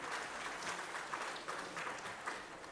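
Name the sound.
applause for award winners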